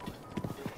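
Horse hooves in the video game The Legend of Zelda: Breath of the Wild, a few soft clip-clop steps heard faintly and briefly with no talking.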